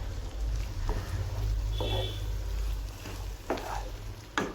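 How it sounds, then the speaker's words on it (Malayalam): Egg and green pea masala being sautéed in a pan, a continuous loud sizzle with low rumbling and occasional scrapes of a spatula, at a beach-side stall in Kozhikode. "എല്ലാം കൂടെ ചേർത്തിട്ട് നന്നായിട്ടൊന്ന് വഴറ്റി കൊടുക്കാം"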